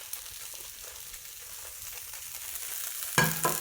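Onions scooped onto a hot Tefal OptiGrill, where they sizzle and hiss steadily and briefly catch a sharper burst of frying as they land near the end.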